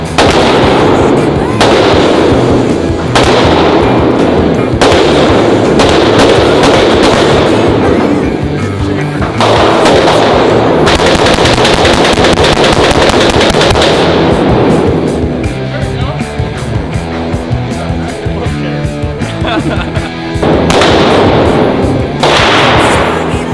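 A fully automatic Glock pistol fires at an outdoor range in long, loud, rapid bursts of closely spaced shots, separated by short pauses. Voices talk between and over the bursts.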